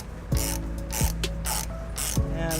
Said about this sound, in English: I'm going to go ahead and take a 18mm socket. And I'm just going to go ahead and ratchet it up.